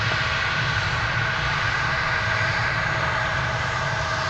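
Jet airliners landing and taking off at Dallas/Fort Worth International Airport, a steady loud roar of engine noise and rushing air sustained throughout, with a low rumble underneath and no voices.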